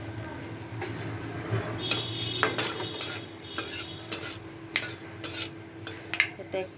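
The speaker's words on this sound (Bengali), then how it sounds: "একটা এলাচ একটু ভেঙে আর একটা লবঙ্গ ফোড়নে দিলাম আর তার সঙ্গে দেড়খানা শুকনো লঙ্কা আর তেজপাতা দুটো" Whole spices, cardamom, clove, dried chilli and bay leaf, tempering in hot mustard oil in a pan, with a steady low sizzle and repeated light clinks and scrapes of a spoon stirring.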